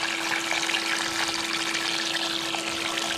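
Water pours steadily over a gold sluice mat lined with miner's moss, washing gold-bearing dirt off a scoop during home gold processing. It makes a continuous, close rushing trickle with a faint steady hum, and no one speaks.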